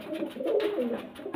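Pigeon cooing close by, a steady run of soft throaty coos with one fresh phrase near the end, among birds kept for sale with golden eyes.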